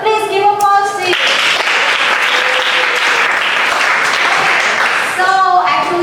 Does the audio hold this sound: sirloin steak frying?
no